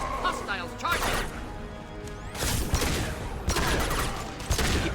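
Heavy pistol gunfire in Mass Effect 2 combat, with repeated sharp, loud shots in irregular bursts mixed with impacts and battle clatter, and speech underneath.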